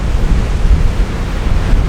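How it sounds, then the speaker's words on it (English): Strong wind in Wanaka buffets the microphone in a loud, continuous low roar with gusty rumbling and no voices. "it's ridiculously windy here"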